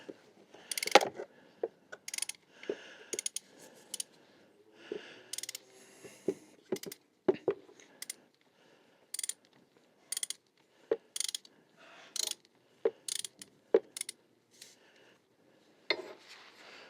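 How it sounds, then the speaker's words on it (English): Ratchet wrench loosening the oil release screw on a Benelli TRK 502X motorcycle, repeated short clicking bursts in an irregular rhythm, close and quiet with pauses between strokes. "So now carefully loosen up the release"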